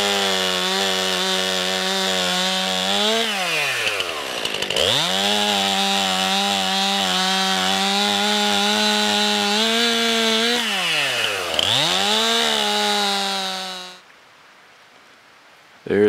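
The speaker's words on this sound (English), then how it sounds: "We'll be processing firewood now." A chainsaw cuts firewood at a campsite, loud and close with a steady engine drone that dips twice as the chain bites into the wood, then cuts off near the end.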